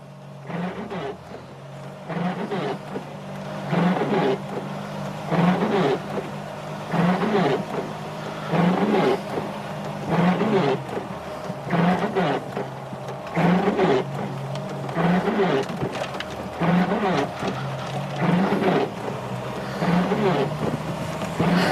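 A Triumph 2500 MK I car pulls out of a driveway after steering repairs, its engine a steady close drone with a regular, repeating pulse throughout and no talking.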